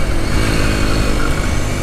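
A Derbi 125cc motorcycle engine accelerates hard in a loud, steady, close-up roar with no speech.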